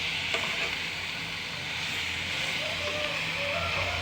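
Chopped onions sizzle steadily in hot oil as they are stirred in a pan for a shark fish curry, a close, continuous hiss with a faint voice in the background.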